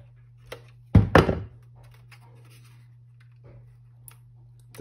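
Two small, sharp clicks close together at close range as a nano SIM card tray clicks into place in a Superbox device, followed by quiet with a few faint taps and rustles.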